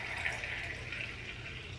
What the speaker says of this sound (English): We're gonna go ahead and pour.